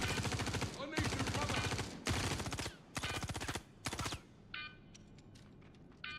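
Bursts of rapid automatic gunfire from NPC enemies in Star Citizen come in several long and short volleys, loud and close, followed by quieter scattered electronic pings and shots near the end.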